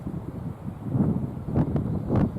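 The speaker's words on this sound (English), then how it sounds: "It's too cold, wet, and windy, everything." Cold, wet wind gusting across sand dunes and grass meadow on the Northumberland coast, a steady low rumble of wind noise on the microphone that swells into stronger buffets, with no voices.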